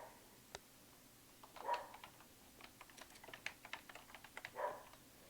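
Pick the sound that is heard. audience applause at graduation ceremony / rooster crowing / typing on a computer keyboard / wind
typing on a computer keyboard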